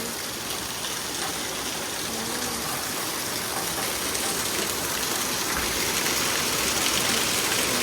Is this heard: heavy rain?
yes